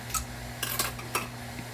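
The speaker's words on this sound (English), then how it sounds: "Okay, mix it all up nicely." Utensils clink against a bowl in a few quick scraping and tapping strokes as ingredients for pork chops are mixed, close and fairly quiet over a low background hum.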